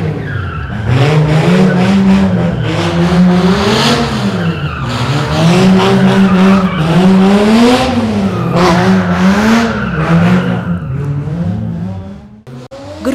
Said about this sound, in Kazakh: Гүрілдеген қозғалтқыш